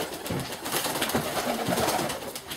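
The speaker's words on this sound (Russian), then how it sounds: "Вот они, хорошие голуби мои." Pigeons cooing in a steady, close chorus of soft, throaty coos and murmurs that run continuously with no talking.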